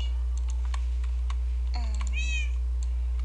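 Kitten giving a single short, high, rising meow at close range, surrounded by light ticking and tapping noises over a steady low background hum.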